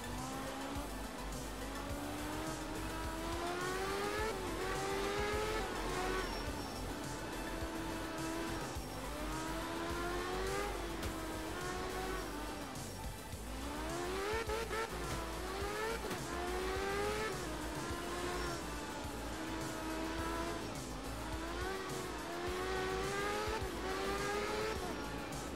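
Rally car in the video game Art of Rally, its engine revving up and down through repeated gear changes with rising and falling pitch, loud and continuous, with tire noise underneath and no talk.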